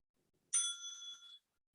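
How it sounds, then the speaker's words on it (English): A single timekeeping bell rings once at a conference summit. The strike is bright and clear and rings for under a second before it fades, with silence on either side. "Once time is up, the bell will be rung twice."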